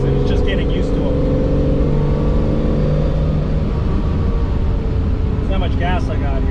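Ferrari 365 GTC/4 engine pulling under throttle on a drive, a loud, continuous low drone with rising and falling harmonic tones, joined near the end by brief higher sounds.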